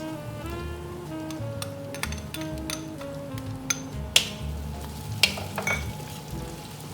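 Onions go into a pan of golden-fried garlic, crackling under soft background music, with scattered spatula clinks and taps against the pan.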